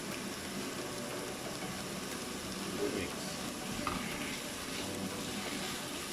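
Small tofu cubes stir-fried with carrots and onions in a pan, a dense continuous sizzle with faint scraping of the spatula mixing everything together, steady and close with no talking.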